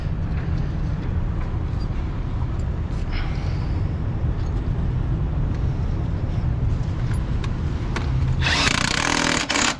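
A power tool driving bolts into a cover on an ambulift vehicle, a rough continuous grinding buzz held close and loud throughout, swelling to a harsher burst near the end.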